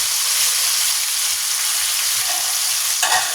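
Tofu frying in a pan of oil gives a steady, loud, close sizzle throughout, with a brief scrape or stir near the end.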